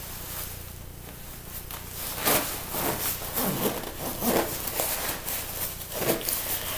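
A close jacket zipper pulled up in several short rasping strokes, with fabric rustling between the pulls.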